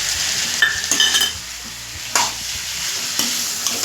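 Potato bhaji with lemon juice is stirred in a pan over a soft, constant sizzle, with several close, distinct scraping strokes at irregular intervals.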